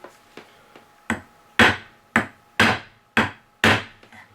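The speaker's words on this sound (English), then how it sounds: "So, just take the hammer and place this against the metal." A hammer taps the metal pins of a pinned balisong knife, giving about eight sharp, close metallic-wooden knocks at a steady rhythm, the later strikes louder, with no talking.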